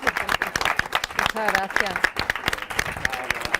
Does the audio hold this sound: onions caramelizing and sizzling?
no